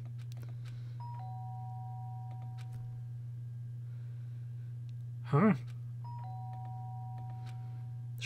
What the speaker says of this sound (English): The sharp sound of the doorbell pierced my sleepy haze and pulled me back into the real world.